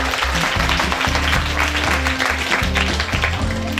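Crowd of parents applauding at a children's drawing competition in Surat, a dense, steady burst of clapping throughout, loud and close, with some voices mixed in.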